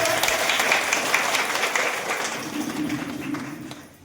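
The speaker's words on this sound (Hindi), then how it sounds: "समस्त मिसी ताको ताली देबा" Audience applause at a Saraswati Shishu Vidya Mandir school event in Gudari, a dense steady clatter of many hands that carries on for several seconds, then thins and fades toward the end, with faint voices mixed in.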